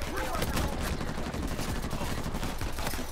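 Dense, continuous gunfire in the video game Uncharted 4, rapid overlapping shots forming a loud, steady barrage with no break throughout.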